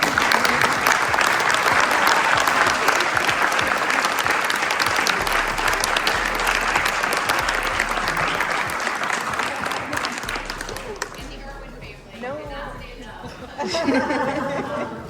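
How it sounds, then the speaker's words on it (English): Sustained applause from a banquet crowd at a high school football banquet, honoring the parent committee; dense, loud clapping mixed with chatter and a few chuckles, thinning out toward the end before a brief renewed burst. "let us all give you a big thank you with applause"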